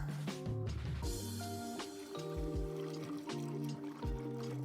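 Demineralized water pours into a car's cooling system during a coolant flush, a steady trickling, gurgling stream with intermittent glugs and clunks, close by, no talk.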